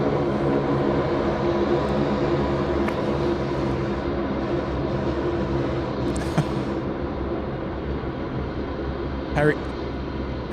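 Regional Express propeller airliner taking off at Sydney Airport, a loud, steady broadband roar heard from outdoors, with a few faint clicks and brief sounds over it.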